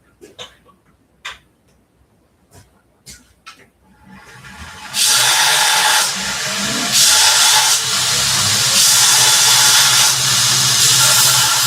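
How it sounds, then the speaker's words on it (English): A grinder switches on partway through and runs as a loud, steady broadband whine and hiss, following a few scattered clicks and knocks in near silence. "Grinder."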